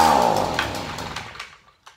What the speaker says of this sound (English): We'll see if this thing fires one more time.